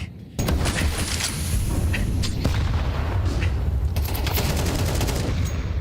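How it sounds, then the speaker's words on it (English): A grenade explodes in a Counter-Strike match during a BLAST.tv Major esports broadcast, a sudden loud burst followed by dense, rapid in-game gunfire and crackling impacts. "meaty nade, damage done"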